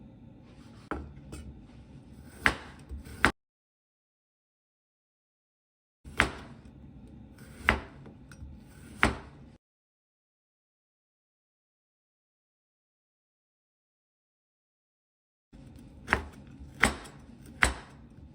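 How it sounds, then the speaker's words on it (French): A knife chopping chili pepper and garlic on a board, quiet, close taps in short irregular runs, with sharper cuts standing out, separated by long stretches of silence. "Je hache le piment et l'ail."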